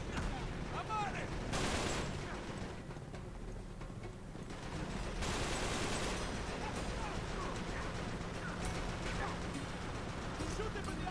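Uncharted 3 gunfire rattles in dense bursts and volleys throughout a busy action scene, loud and continuous, with people talking over it.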